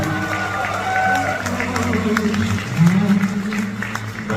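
Wedding guests clap for the groom's entrance at a Korean wedding ceremony, with steady crowd applause under a tonal voice or music in the hall.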